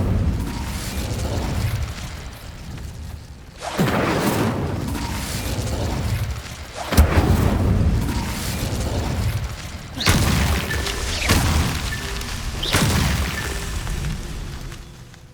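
Incendio fire spell cast repeatedly in Hogwarts Legacy, giving loud whooshing fire bursts and booms at a steady rhythm, about four or five blasts close up with game ambience between them.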